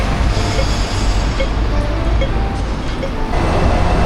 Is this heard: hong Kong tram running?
yes